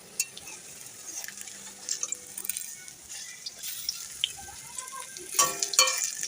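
Lentil fritters fry in hot oil in a home kitchen with a steady, close crackling sizzle, punctuated by small pops and a few louder spatters near the end.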